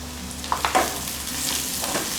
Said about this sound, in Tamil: இது போல் நல்லா கோல்டன் ப்ரௌன் கலர் வர வரைக்கும் வெங்காயத்தை நல்லா வதக்கிக்கலாம்